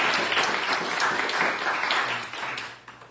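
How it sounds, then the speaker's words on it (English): Audience applause for children performing at a devotional program in Big Island, Hawaii, a steady burst of clapping from many hands that fades out at the end. "I want big clapping for the kids of this Samvad."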